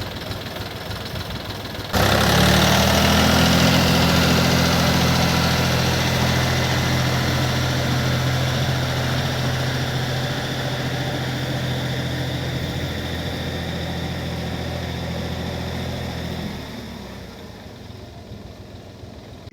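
A mini tractor with a homemade sprayer attached starts up and drives on asphalt, its engine a loud steady low drone with a rough knocking hum that holds for about fifteen seconds before dropping off.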